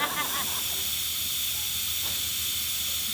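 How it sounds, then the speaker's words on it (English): A pressure cooker that has been running for about half an hour hisses steam in a steady, loud, continuous rush, with a faint burst of bubbling near the start. "A pressure cooker now, it's been going for about 30 minutes."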